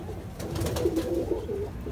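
Red and green pigeons kept for sale at a loft in Bindapur, Delhi coo close by: a short run of low, throaty, rolling calls rising over quiet background shuffling.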